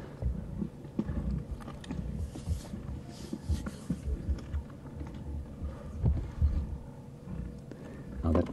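Five lions in Sabi Sand gnaw and crunch on the bones of a zebra foal, making irregular, heavy chewing cracks with low grunts and shuffling close by.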